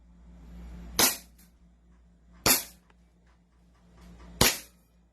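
An airsoft gun fires three sharp, loud cracks spaced a second or two apart, emptied until the bolt locks open, with a low steady hum beneath.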